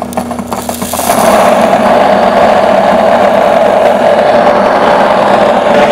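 An electric grain mill grinds wheat into flour, starting with a lighter rattle and then settling into a loud, steady, dense mechanical roar that fills the rest of the clip close up.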